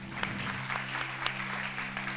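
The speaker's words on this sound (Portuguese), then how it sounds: "Aplaudam, pessoal." A church congregation claps together in steady, sustained applause that fills the room evenly, with a low hum running underneath and no voices above it.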